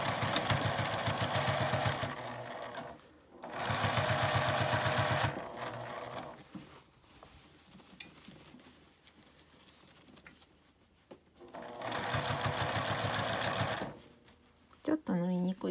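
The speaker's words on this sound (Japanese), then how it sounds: "こちらも表側に端ミシンをかけます。" Sewing machine stitching an edge seam on the right side of a lined fabric zipper pouch, running in three loud steady bursts with quiet pauses and small handling noises between.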